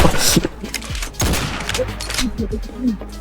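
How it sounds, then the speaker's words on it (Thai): Several sharp gunshots fired as warning shots crack out in an uneven volley, interleaved with shouting voices. "กูยิงขู่ก่อนนะ"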